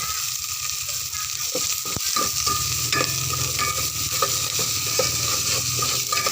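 Onions fry in a hot pan with a constant loud sizzle, while a utensil scrapes and stirs through them in repeated clacks; close and continuous, no speech.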